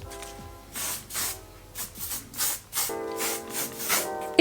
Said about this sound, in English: Then you can spray on some hairspray just to hold it in place.